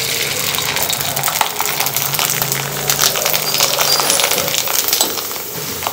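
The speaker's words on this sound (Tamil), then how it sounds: "அது 2 பொரிச்சு காமிக்கிறேன்." Sago fritters with potato and sweet potato fry in hot oil, giving a loud, steady, close-up sizzle with crackling that holds throughout, plus a few faint metallic clinks.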